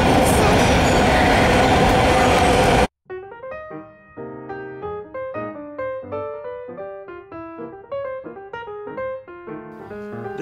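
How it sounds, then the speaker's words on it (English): A train passing on rails rushes by as a loud, dense roar for about three seconds, then cuts off abruptly into a stretch of steady melodic tones. "this is our train, buddy"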